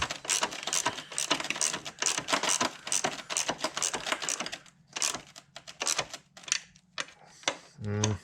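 Wrench or ratchet tightening intake bolts in a crisscross pattern on a 2012 Hemi engine in a Ram 1500, heard as a rapid series of close, sharp clicks and ticks with brief pauses and a metallic rattle near the end.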